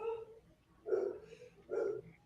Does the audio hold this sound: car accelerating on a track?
no